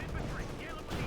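Bazooka rockets striking a Panther IV tank during a Company of Heroes 2 battle: a dense, continuous wash of gunfire and explosive impacts with a heavy low rumble, busy and unbroken across the moment.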